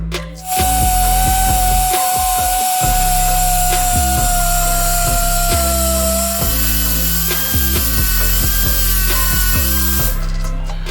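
A power tool grinds the gouged edges of an alternator bracket for a Coyote-swapped Bronco. It runs loud and continuous with a steady high whine, and the pitch shifts slightly as the load changes. Repeated rhythmic low thumps sound underneath.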